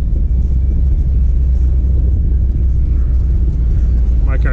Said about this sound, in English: My car seems to be running very nice.